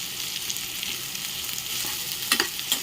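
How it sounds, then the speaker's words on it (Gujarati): Potato samosa filling with coriander is stirred in a hot pan, giving a steady broadband sizzle with a few sharper scraping clinks near the end, and no voices. "આ રીતના આપણે હલાવી નાખવાનું છે."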